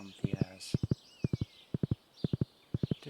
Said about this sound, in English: we'll get in our horse and ride down to Pierre's and then come back